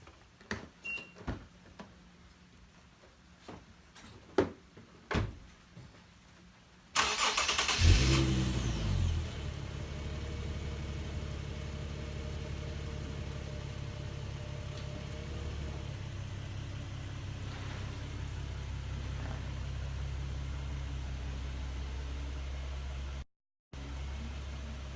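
An Infiniti Q50S fitted with lowering springs comes to life after a few sharp clicks and knocks, its engine catching abruptly and then settling into a steady, close idle hum that carries on until a brief dropout near the end.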